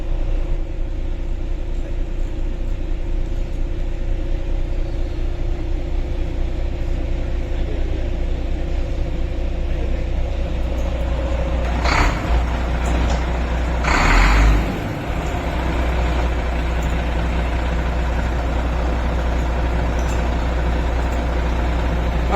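A new ten-wheel boom truck with a 10-gear transmission runs with a steady, deep engine rumble throughout, broken near the middle by two short, sharp hissing bursts.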